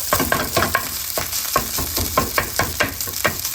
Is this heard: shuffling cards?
no